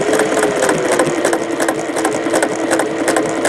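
A Singer 401A sewing machine fitted with a straight stitch foot, running close and loud in a fast, steady mechanical chatter with rhythmic clicking throughout.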